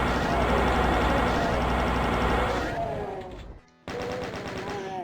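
Rapid gunfire rattles loudly against chaingun-wielding enemies in the video game DOOM, dense continuous shooting that thins out, breaks off briefly near the end, then resumes.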